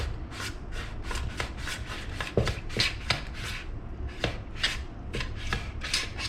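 A knife slices through raw potatoes for scalloped potatoes, a steady run of quick, crisp cuts repeating close up at an even rhythm, with no talking.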